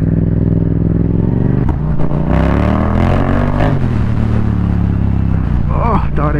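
A Yamaha XSR700 fitted with a loud Akrapovic carbon exhaust revs up loud and close on an icy road, its engine note climbing through gears with throttle blips and rumbling bursts.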